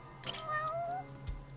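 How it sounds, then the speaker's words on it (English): A cat meows in the video game Judgment: one drawn-out, rising-and-falling meow, fairly clear against a quiet background, followed by a faint soft thump. "I just hear a cat."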